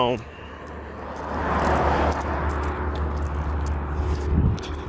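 Propeller airplane droning overhead near an airport, a broad steady roar that swells and lingers at moderate distance, with a voice speaking faintly beneath.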